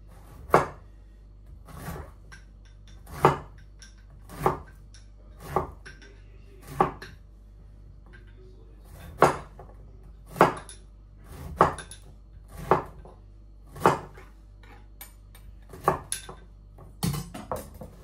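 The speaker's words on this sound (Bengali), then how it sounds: "এখন সবজিটা কেটে কুটা দিব, লাউ আর মূলা" Bottle gourd and radish being chopped by hand with a knife: sharp, separate knocks on a board, roughly one every second, clear and close in a quiet room, with a few quicker cuts near the end.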